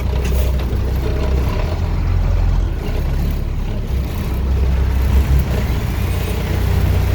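Feed truck idling as it backs up to a feed gate for cattle feeding, a steady low diesel rumble close by throughout with a brief hiss near the end.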